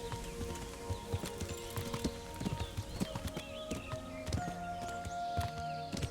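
Horse hooves clip-clop at a walking pace in the medieval video game Kingdom Come: Deliverance, steady close hoofbeats over a low ambient game score.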